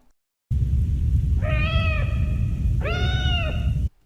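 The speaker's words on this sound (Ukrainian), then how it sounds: "Це нявкає чорнобильський кіт." A cat in the video game S.T.A.L.K.E.R.: Shadow of Chornobyl meows twice, plaintive and drawn out, over a constant low rumbling background.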